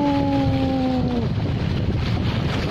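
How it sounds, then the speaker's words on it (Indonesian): Ocean waves around a small fishing boat, a continuous loud wash of water and wind noise close by, with a brief whine fading in the first second and no talking. "Ombaknya guys."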